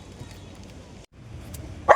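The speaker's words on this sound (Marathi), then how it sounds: "तो डॉगी बघा कसं भुकतोय गाडीमध्ये" A small dog barks from inside a car in a few brief yips, the loudest one coming at the end, over soft background noise and a nearby voice.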